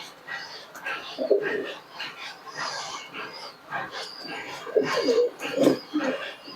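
Domestic pigeons, a pair of flying tumbler types, give low, repeated cooing bursts in a few clusters, with other birds and faint voices in the background.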